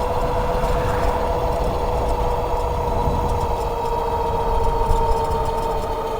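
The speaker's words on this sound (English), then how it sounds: "The tires are super loud, as you can tell" Knobby fat tires on a Happyrun Tank G60 Pro e-bike hum loudly while rolling, a steady close-up droning whine with sustained tonal bands and little variation throughout.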